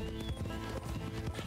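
Horse hooves clip-clop at a steady trotting rhythm in Red Dead Redemption 2, close and continuous over a low background.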